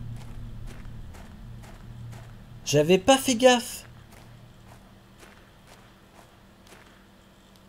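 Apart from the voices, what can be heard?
footsteps in the video game Planet Crafter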